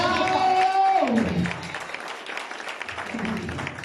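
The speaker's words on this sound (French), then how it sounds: "Je voudrais que tu acclames le Seigneur" A church congregation applauds and acclaims the Lord, a sustained crowd clapping beneath a preacher's loud sung or drawn-out voice, with cheering voices mixed in.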